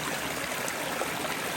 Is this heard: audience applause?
no